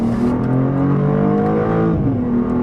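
A BMW M2, sharing its engine with the M3 and M4, revving hard with a loud, close, rising engine note that dips briefly as it shifts, then climbs again.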